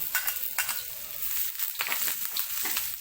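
Pork belly stir-fries in a pan over low heat, giving a steady close sizzle and frying hiss with soft scraping stirs throughout.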